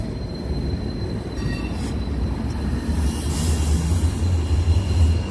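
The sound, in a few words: tram passing on rails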